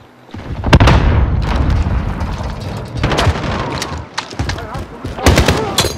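Grenade explosion and gunfire in Modern Warfare 2019, dense bursts of rapid shots and booms, loud and close, with voices calling out over the combat.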